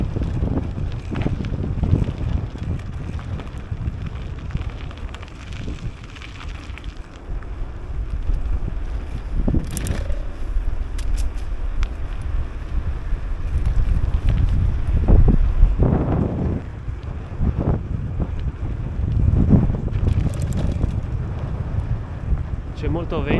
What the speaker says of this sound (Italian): C'è molto vento, faccio fatica a stare in piedi, a mantenere l'equilibrio in bicicletta